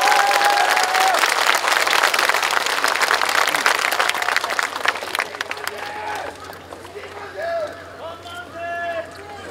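Warm applause from a large crowd at a memorial for a late president swells loudly for several seconds as a speaker is welcomed, then thins out and fades while a few voices and stray claps linger.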